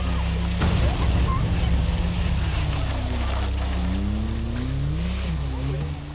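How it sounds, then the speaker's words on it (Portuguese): A Volkswagen Kombi van's engine labours up a steep hill, a loud continuous drone with rising and falling pitch as it strains, a sharp knock near the start. "Adiante, a Kombi vai costurando ladeira. E onde o motor não dá conta, tração é empurrão de aluno"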